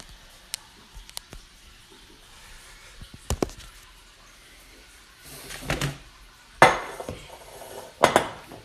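A metal roasting pan handled in a kitchen, knocking and clinking a few times with sharper clatters toward the end, set among quiet pauses.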